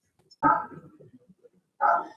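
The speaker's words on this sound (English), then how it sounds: "There goes Henry barking at something." A dog barks twice, close and clear, with a short gap of soft noise between the two barks.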